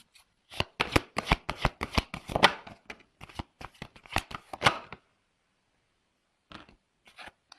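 Tarot cards shuffled by hand in a long run of quick, crisp riffling bursts, then a short pause and a few softer card flicks near the end; no talking.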